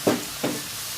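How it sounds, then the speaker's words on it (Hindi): Salted vegetables stir-fry in a hot pan for chicken fried rice, with two quick scraping stirs over a soft, even sizzle in a brief close-up burst. "वेजिटेबल्स को ज़्यादा कुक नहीं करना, हमने इसको जस्ट स्टर फ्राई करना है।"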